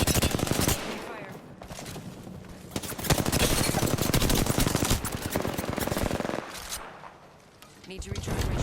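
Rapid automatic weapon fire in Apex Legends, dense bursts of loud close shots crackling in quick succession with brief lulls between volleys, mixed with game effects.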